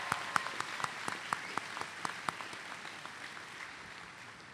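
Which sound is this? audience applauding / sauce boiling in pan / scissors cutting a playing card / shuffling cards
audience applauding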